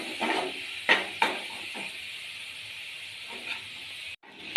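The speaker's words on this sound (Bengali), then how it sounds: "এবার সর্ষে বাটার এটা আমার ফুটে উঠেছে।" Mustard paste gravy with salt and green chilli comes to a boil in a pan for a koi fish dish, giving a steady close hiss and sizzle with a few sharper bubbling pops.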